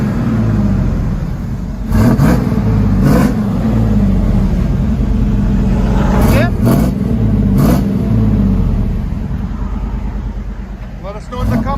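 A Chevy Silverado with a 5.7L V8 and Borla Pro XS exhaust idles with a deep, steady rumble, then blips its throttle in several short, loud revs spread across the stretch.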